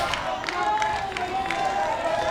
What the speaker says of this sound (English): Virginia fans looking for reason to cheer once again.